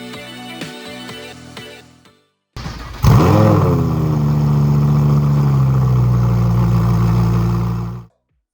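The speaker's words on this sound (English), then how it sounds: "do a cold start for you all" A supercar fitted with an Inconel exhaust starts from cold: a sharp catch and rising roar flare into a loud, steady high idle that holds for about five seconds before cutting off, following a short stretch of other sound.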